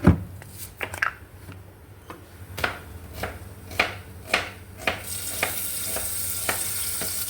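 Garlic frying in oil in a pot, with a steady hiss broken by a series of sharp clinks and spatters; the sizzle grows brighter and louder toward the end.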